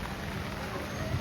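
Rain falls in a steady, even hiss of countless drops on the ground, close and fairly soft, with no distinct individual impacts over its brief span.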